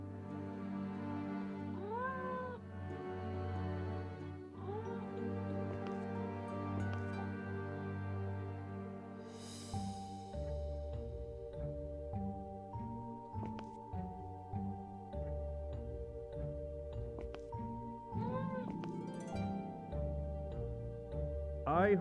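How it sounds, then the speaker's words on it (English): Cat meows with a tonal, electronic game-like quality, repeating several times over steady background music, in Nancy Drew: Mystery of the Seven Keys. "Is that a cat meowing?"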